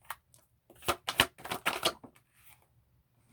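Quick riffling bursts of tarot cards being shuffled, a crisp flurry of flicks and taps, close and clear with no talking.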